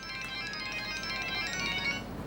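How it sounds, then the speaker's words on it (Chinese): A telephone ringtone plays steadily for a couple of seconds, a bright repeating electronic melody at moderate level with no talk. "接电话。"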